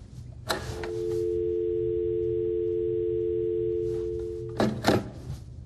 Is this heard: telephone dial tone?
yes